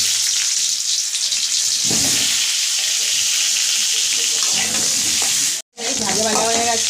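Diced potatoes go into hot oil with cumin and bay leaf, setting off a loud, close, continuous sizzle with stirring scrapes. After a brief cut the sizzling returns, crackling more sharply.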